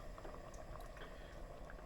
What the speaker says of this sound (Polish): i niech się gotuje, tylko trzeba mieszać co jakiś czas